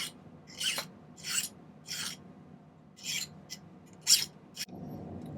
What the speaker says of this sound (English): So I do a little cleanup filing here.